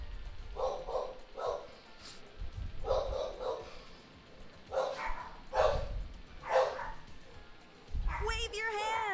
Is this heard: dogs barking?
yes